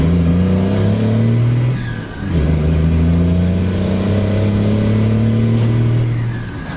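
A Cummins diesel truck with fuel mods pulls hard through the gears, its loud engine tone climbing steadily, dropping briefly at a shift, then rising again close up without talk.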